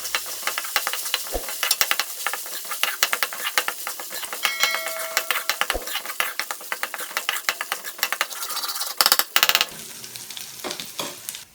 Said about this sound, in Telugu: ఇలా ఆనియన్స్ ఫ్రై అయ్యాక 2 స్పూన్స్ జింజర్ గార్లిక్ పేస్ట్ వేసుకొని రా స్మెల్ పోయే వరకు ఫ్రై చేసుకోవాలి.